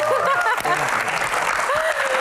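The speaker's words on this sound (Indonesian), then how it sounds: "Tepuk tangan." An audience at a Q&A session with Dr. Boyke breaks into applause, loud steady clapping mixed with a few voices calling out over it.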